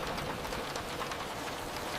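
Steady rain falls in a soft, even hiss, with a continuous wash of droplets and no voices or other sounds above it.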